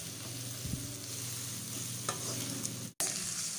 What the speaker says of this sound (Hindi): और लहसुन अदरक के पाउडर के साथ मिला के हम इसको फ्राई करेंगे थोड़ी देर।